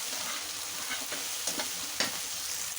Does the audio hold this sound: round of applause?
no